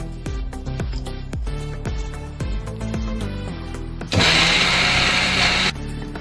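Background music plays, then a mixer grinder roars loudly for about a second and a half, grinding chapati with jaggery, before cutting off abruptly.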